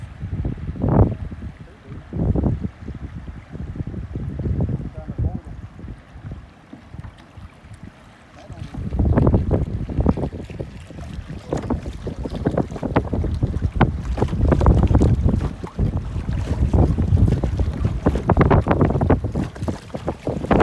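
Strong wind buffets the microphone in loud, uneven gusts while kayaking through swift water on Powell River, with faint water rushing and paddle noise underneath and no talk.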